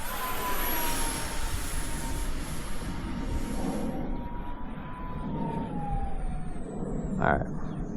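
A gen 2 RC F-22 Raptor model jet flies by with a steady turbine roar and a high whine that slides downward and fades as it passes, then a louder burst near the end.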